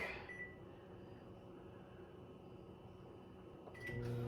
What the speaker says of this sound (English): throw that in the microwave and just melt that real quick